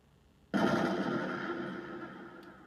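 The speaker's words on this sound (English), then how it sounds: "you have the extra gunshots that go in the background and stuff" A gunshot sound effect in a GarageBand trap beat gives one abrupt, loud, full-range blast whose noisy tail fades slowly over about two seconds.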